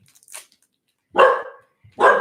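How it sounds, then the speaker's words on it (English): A dog barks twice in quick succession, loud and close, with a faint earlier yelp-like sound and a soft low noise between, no people speaking. "He's barking at the neighbor, I think."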